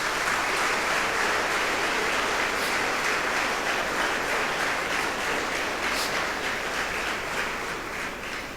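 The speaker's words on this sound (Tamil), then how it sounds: "நீங்க விரும்பாட்டியும் கூட ஒரு கைத்தட்டலை கொடுத்துருங்க" Sustained applause from a school audience, a dense steady wash of many hands clapping together, loud and continuous for several seconds before tapering slightly at the end.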